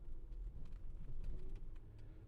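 Low rumble of road noise inside a moving car, a quiet steady drone with faint clicks and rattles scattered through it, no one speaking.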